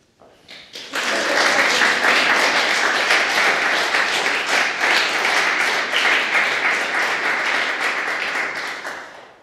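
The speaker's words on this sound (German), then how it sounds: "ein Applaus für Sie, für Ihr Ensemble" Audience applause for a theatre ensemble at an opening event in Cologne: after a brief quiet start, close, loud, dense clapping from an indoor crowd swells and holds steady before tapering off slightly.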